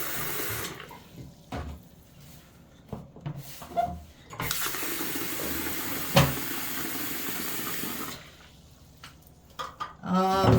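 Cold water runs from a tap into a sink where clothing is being washed, a loud, steady close gush that starts and stops in bursts, with faint splashes and clunks of handling in between.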